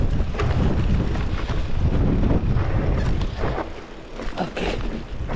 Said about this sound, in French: je me méfie des rafales